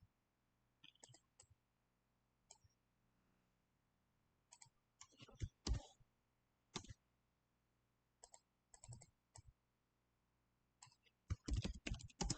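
Bursts of computer keyboard typing in short clustered runs separated by pauses, with mouse-like clicks, close and fairly quiet over a low steady hum.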